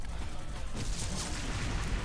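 Gunfire from a Flash Point Fla. gun in the shooter game XSHOT, a steady stream of loud booming shots and blasts that fills the whole stretch with dense noise.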